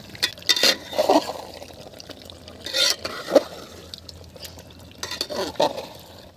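Chicken kosha with fried spices being stirred in a pot as it cooks down. Short bursts of wet scraping and stirring come at irregular intervals, with quieter simmering between them.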